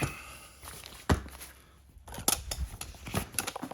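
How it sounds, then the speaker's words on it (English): A utility knife with a brand-new blade cuts a plastic interior panel of a Fox-body Mustang: close, irregular scraping and slicing strokes with short pauses between them and no talking. "I put in a brand new blade so I get a nice clean cut."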